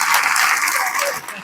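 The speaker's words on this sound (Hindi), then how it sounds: "मनु सर के लिए मैं जोरदार तालियां बजवाना चाहूँगी" Applause at an RCM team success celebration, a loud burst of clapping from a crowd that holds for about a second before starting to fade.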